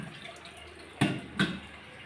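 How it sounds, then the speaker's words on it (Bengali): Water poured out in a home in the morning, two short splashing gushes a moment apart against a low steady background hum, close and moderately loud. "সেই জল ফেলছে।"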